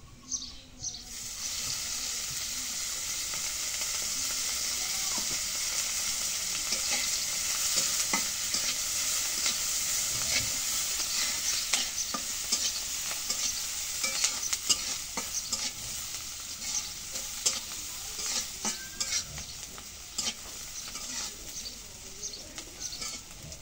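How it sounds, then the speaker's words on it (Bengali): Oil hits a hot pan and sizzles with a steady broadband hiss that builds and carries on for over twenty seconds, sprinkled with small crackles and faint scrapes, moderately quiet and without talk. "এখন তেল দিয়ে দিই"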